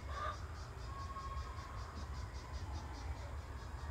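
Honeybees gathered on the frames of a hive give off a steady, low, close drone throughout, with a few faint higher buzzes passing by and no talking.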